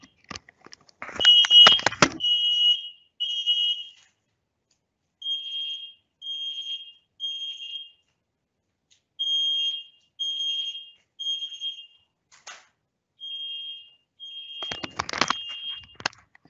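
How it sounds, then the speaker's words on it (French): A smoke alarm beeping indoors in repeated groups of shrill high-pitched tones with pauses between bursts, loud and close, with some clattering handling noise at the start and end. "Excusez-moi, il y a l'alarme qui s'est déclenchée."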